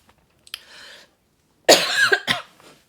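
A woman coughs, first a softer short cough, then a louder, harsher fit of several coughs in close succession, near and alone.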